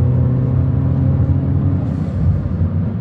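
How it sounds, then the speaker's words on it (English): Close, loud rumbling drone of a turbocharged 400bhp R56 Mini engine, steady and heavy through the whole short stretch, with a faint rising whistle of the turbo creeping in toward the end. "turbo, oh man, it sounds awesome"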